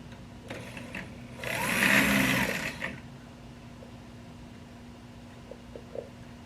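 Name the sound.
drill press drilling through riding car part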